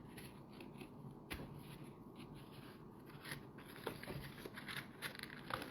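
Scissors cut through a cardboard egg carton in quiet, close snips and rasps that scratch along steadily for several seconds at low volume.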